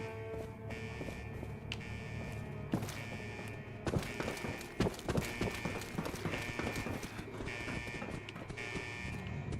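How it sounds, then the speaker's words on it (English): Shuffling footsteps in the video game Fallout 76 give a faint run of scuffing, irregular knocks under a steady droning game soundscape with tonal music, growing denser midway. "You can hear those footsteps, the shuffling."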